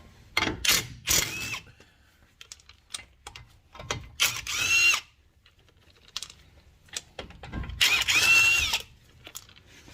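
An impact wrench loosens a lower ball joint bolt on a 2005-or-later Kia Sportage in a garage, firing several short, loud hammering bursts close by, with quieter ratcheting and clinking between them.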